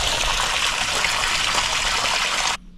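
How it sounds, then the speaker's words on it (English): Wastewater gushes out of a tank through a drain, a loud, steady rushing stream that holds for over two seconds and then cuts off abruptly, leaving faint background noise. "We're emptying the wastewater."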